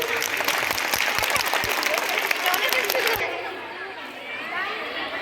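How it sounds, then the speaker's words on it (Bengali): Audience applause at a school food festival, a dense patter of many hands clapping at moderate distance with crowd chatter mixed in, fading to softer murmuring toward the end. "একটা হাততালি দিয়ে"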